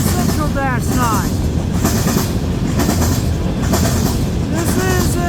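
Brand-new CN AC44C6M diesel locomotive hauling freight train M343 past Ladysmith, Wisconsin: loud steady rumble and rolling rail noise with wheel squeals and clatter of cars passing close by, continuous throughout.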